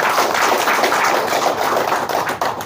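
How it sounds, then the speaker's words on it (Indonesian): Applause for a community club chairman at a motorcycle club gathering, a dense, steady patter of many hands clapping together, loud and sustained for a few seconds with no voices over it. "Untuk itu aplaus dulu buat Ketua"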